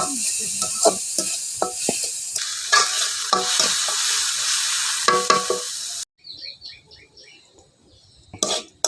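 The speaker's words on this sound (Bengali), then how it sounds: "ছানা করার আগে মাছটা ভালো করে ভাজে নিব" Dried fish (shutki) frying in a pan in a village kitchen, with loud crackling sizzle and spatula scrapes, then a brief gap before a quieter stretch of frying and stirring.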